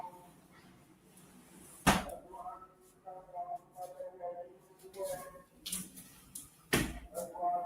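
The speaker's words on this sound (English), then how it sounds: "Let me close the door." A door closes indoors with two sharp, loud bangs a few seconds apart, and a person talks quietly between and after them.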